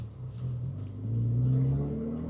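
A car drives past near a Strosek Gemballa Porsche 944 Turbo, its engine hum swelling briefly in a low steady rumble before settling, moderately close with no voices.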